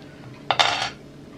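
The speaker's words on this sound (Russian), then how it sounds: "я сейчас мою посуду" Dishes, pots and cutlery clink and clatter briefly during washing, a quick close cluster of metallic and ceramic knocks over quiet kitchen background.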